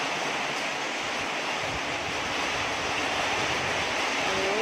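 Strong wind gusts through a heavy morning rainstorm that brings flooding, making a dense, steady roar that stays loud and unbroken throughout, with no voices.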